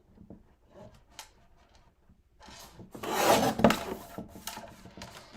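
Printed pictures being trimmed for a scrapbook layout, close-up rasping and scraping cuts of paper in short irregular bursts, louder toward the middle, with no voices.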